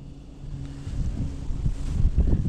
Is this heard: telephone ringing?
no